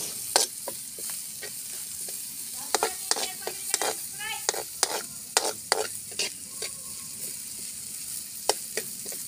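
Onions fry in a pan with a soft steady sizzle, punctuated by a string of crisp spatula scrapes and taps as they are stirred nearby, no voices.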